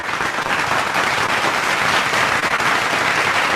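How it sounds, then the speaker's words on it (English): A dense wash of steady applause from a sizeable conference crowd, continuous and fairly loud with no talking. "let's give a round of applause to our moderator and panelists today"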